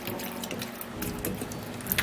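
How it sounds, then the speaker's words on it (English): Water pours and splashes briefly into a blender, a short gurgling rush with a few drips. "we're going to be putting in just a little water"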